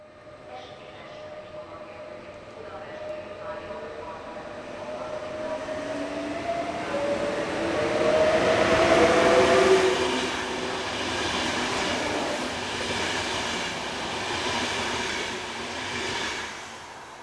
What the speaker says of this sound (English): Soproni közgáz Intercity train arrives from Sopron at platform 14.